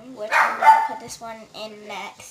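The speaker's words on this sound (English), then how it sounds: "Sorry, that's my dog barking." A pet dog barks indoors in short, sharp yaps, mixed in with and partly covered by a person talking close to the microphone.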